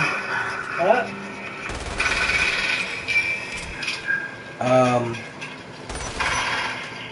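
Gunfire in the Umbrella Corps video game comes in several sharp, loud bursts spaced a few seconds apart, with brief voice sounds between them.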